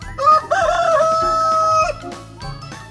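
A rooster crows once, loud and close, a long drawn-out call over a steady background.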